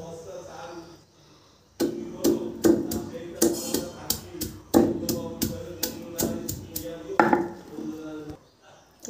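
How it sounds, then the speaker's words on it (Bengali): Garlic cloves being crushed on a shil nora grinding stone, a series of sharp, irregular thuds and knocks close by, with a brief quiet start before the pounding begins. "রসুনগুলোকে পাটায় থেতলো করে নেব"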